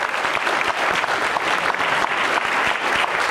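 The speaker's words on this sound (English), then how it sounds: "Let's give him a round of applause." Church congregation applauding at a Mother's Day service, steady dense clapping filling the room from start to finish at close range.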